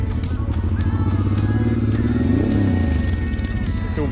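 Honda Transalp motorcycle engine on an off-road trail, a steady loud low rumble with a brief rising rev near the middle, close and continuous throughout.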